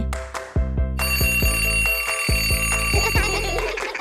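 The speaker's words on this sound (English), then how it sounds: "It's just a clock, but it's really loud." A loud cartoon alarm clock rings with a rapid, repeating metallic bell over a low rhythmic pulse, sustained and close throughout with no talking.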